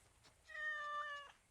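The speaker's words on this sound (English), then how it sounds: "Hey, there's a cat. 2 cats." A single cat meows clearly in the Discovery Tour Ancient Egypt video game, one drawn-out tonal call lasting under a second against a quiet ambient background.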